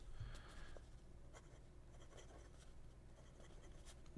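A broad-nib fountain pen filled with brown ink scratches softly across paper in short, quiet strokes, close and faint against a low background hum.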